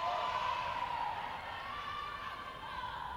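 Spectators at a Netball World Youth Cup netball match cheering and shouting in a steady, busy crowd roar that holds at an even level throughout.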